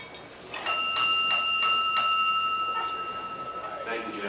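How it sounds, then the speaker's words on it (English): The club's original bell, once covered in a fire, is rung at a Rotary club 50th anniversary celebration, giving several clear ringing strikes whose tone hangs and slowly fades in an indoor room. "having the son of our charter president ring the opening bell"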